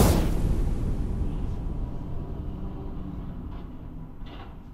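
A war-ambience layer of designed rise sounds and small hand mortar fire opens with a loud blast that slowly rolls off into a long rumbling decay with faint distant pops.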